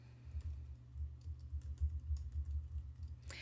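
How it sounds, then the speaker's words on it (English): Fast typing on a computer keyboard, a quiet irregular stream of soft clicks close by with no voices. "you type in your name"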